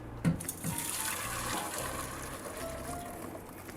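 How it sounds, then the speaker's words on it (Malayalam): Boiling water is poured from a pot into a large vessel, giving a steady close splashing gush with a couple of clunks near the start, then a continuous running pour that slowly fades. "ഇതേ നമ്മുടെ തിളച്ച വെള്ളം നമ്മളൊരു വലിയ പാത്രത്തിലേക്ക് ട്രാൻസ്ഫർ ചെയ്യുന്നു."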